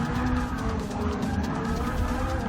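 A Subaru BRZ on cold tires in Forza 6 brakes long and skids at night, a steady rough tire-and-engine roar running without a break for a couple of seconds.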